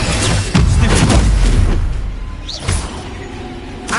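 An Incendio fire spell is cast in the Hogwarts Legacy video game, a forceful booming whoosh with crackling impact bursts, a sharp second hit near the middle, then a fading roar.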